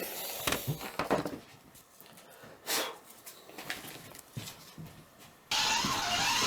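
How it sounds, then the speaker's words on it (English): A Scalextric slot car motor revs while the car is held with its wheels spinning on sandpaper laid on the track, giving short whirring bursts with pauses between them, then a sustained loud whine near the end. "you're revving the engine of your car, holding the wheels"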